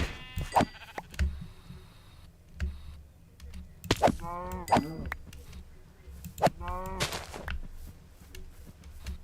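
Sheep in the Minecraft video game bleat in short wavering calls, several spaced across the stretch, alongside keyboard clicks and someone talking intermittently.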